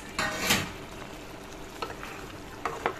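Pieces of pre-fried fish go into a sponge gourd curry simmering in a pan. The bubbling is soft and steady, with a louder splash as the fish drops in and a few faint scrapes or clinks later.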